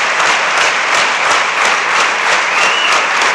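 The arena crowd at a 2011 Denmark Open men's doubles badminton quarterfinal breaks into loud, sustained applause, a dense, even clapping that fills the whole moment.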